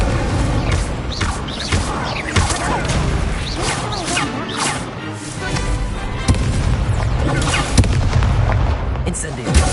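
A fire spell cast during combat in the Hogwarts Legacy video game: loud blasts, booming impacts and crashing bursts come in quick succession over a dense, busy battle mix that runs for about ten seconds.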